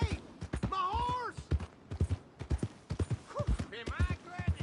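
Horse hooves clip-clop in Red Dead Redemption 2, a run of sharp irregular knocks set among frequent speech and a few whinny-like tones.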